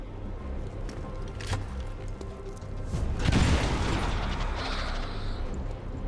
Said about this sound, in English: I'm okay with using a grenade here to deal with the sectoid